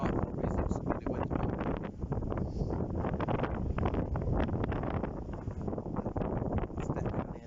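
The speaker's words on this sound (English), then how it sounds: "it's bloody wind" Steady wind roars and buffets an outdoor microphone beside a pit at a fishing venue, a continuous broadband rush with gusty swells and no clear break across the whole stretch.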